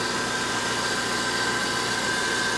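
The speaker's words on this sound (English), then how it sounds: "And this little engine sounds really, really good" A car engine running steadily nearby, a constant droning hum with a faint whine and no variation in speed.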